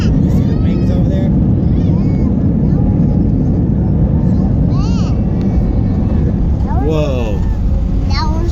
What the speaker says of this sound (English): Whoa, we just touched down, Juju.